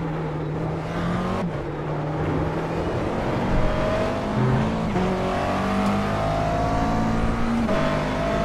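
A race car lapping a circuit, engine loud and close throughout as it brakes into a tight left-hand corner and accelerates again, with rising and falling revs and gear changes.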